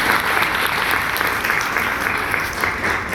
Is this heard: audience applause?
yes